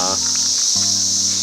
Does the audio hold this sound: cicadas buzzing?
yes